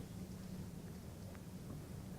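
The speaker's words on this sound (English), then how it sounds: "I heard the thunder." Low rumbling thunder with steady rain, a continuous faint wash of storm noise without distinct claps.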